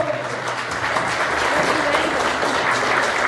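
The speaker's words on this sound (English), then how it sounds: "I want everybody to give a round of applause to Sammy Ravel" Loud, continuous audience applause fills the space, a steady wash of many hands clapping with crowd noise, given for a guest named Sammy Ravel.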